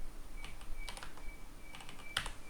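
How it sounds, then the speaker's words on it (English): Quick, light keystrokes on a computer keyboard enter a systemctl restart SSH command on an Ubuntu server, tapped in short bursts against a faint steady hum. "restart the SSH server using the command systemctl"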